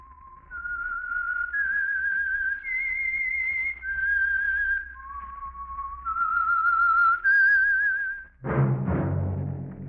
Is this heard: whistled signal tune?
yes